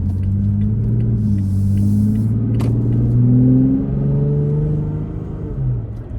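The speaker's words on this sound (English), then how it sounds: "we're going to take off from a stop right here, just so you guys can hear it" A Toyota Tacoma fitted with a new intake pulls away from a stop, its engine rumbling loud and steady and rising gradually in pitch as it accelerates through the gears.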